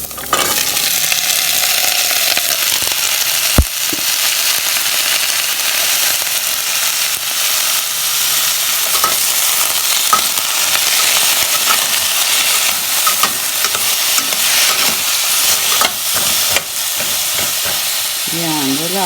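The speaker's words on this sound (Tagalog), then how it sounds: "Ilagay ko na yung bawang, sibuyas at saka luya. Lagay na natin yung papaya." Garlic, onion, ginger and green papaya sauté in a pan in a home kitchen, giving a loud, continuous frying hiss with scraping stirs throughout.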